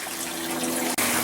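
Water rushes steadily through the pipes of a home aquaponic garden, with a close, continuous gushing hiss that briefly drops out near the end before resuming.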